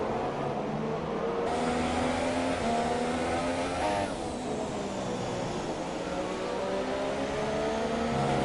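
Formula 1 cars racing in an online league video game give off a continuous high engine whine with rising and falling pitch sweeps as cars accelerate and pass, moderately loud throughout.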